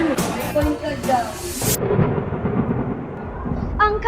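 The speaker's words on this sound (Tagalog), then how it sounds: "Kaya pala ang lakas ng ulan." Heavy rain pours steadily while thunder rumbles and cracks in loud bursts early on, the downpour continuing as a dense hiss after the thunder fades.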